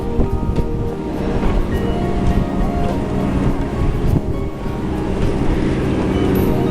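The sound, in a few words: ski boat on lake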